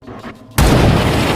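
A single loud sniper gunshot in a film scene strikes suddenly after a quieter moment. The sharp blast leaves a sustained, heavy roar.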